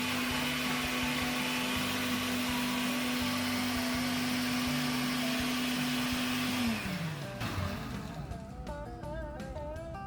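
A kitchen blender whirs loudly and steadily with a strong droning tone for about seven seconds, then winds down and stops, followed by faint clatter and quiet room noise.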